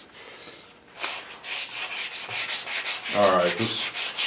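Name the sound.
hand sanding a wooden gunstock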